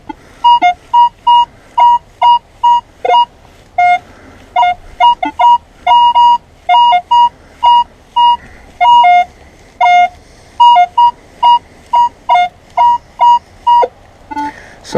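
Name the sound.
metal detector signalling a strong buried target, maybe a pipe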